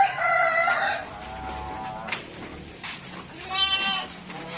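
Sheep bleating on a livestock farm raising Batur sheep, several harmonic bleats, one long loud call at the start and another near the end, with fainter bleats and farmyard noise between.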